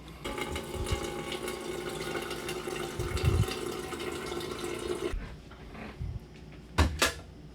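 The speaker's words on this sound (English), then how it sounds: "we are going to fill up this percolator with water" Water running steadily from a tap into a coffee percolator for about five seconds, a bright continuous rush that stops abruptly, followed by a couple of light clunks nearby.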